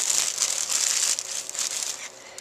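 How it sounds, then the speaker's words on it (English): Plastic bags are crinkled and pushed into a paper craft tea cup box, giving a continuous dry, rustling crackle at moderate loudness with small bursts and a softer patch near the end. "you can have these plastic bags and just stick it in here like this"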